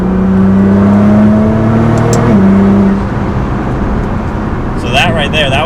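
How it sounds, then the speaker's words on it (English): A Nissan GT-R with a power mod accelerates hard on a highway, its engine note rising loud and close from inside the car for about three seconds before easing off, with faint whirring after. "The car kind of screams like now."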